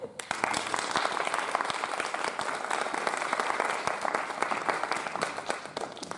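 Applause from the audience at a regional student pitch competition, with many people clapping in a thick, continuous patter that holds evenly for several seconds.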